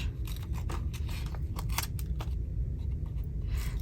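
Scissors snip repeatedly through paper swatch pieces for swatch ephemera crafting, a steady series of close, crisp cuts over a low background hum.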